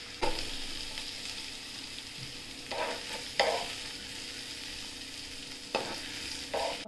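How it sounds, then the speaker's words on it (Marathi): Hot spice tempering is poured into a salted semolina and yogurt batter for bun dosa. A soft, steady sizzle runs underneath while several brief scraping bursts of stirring come through up close. "आपण ही जी फोडणी केली आहे ती याच्यात टाकूया"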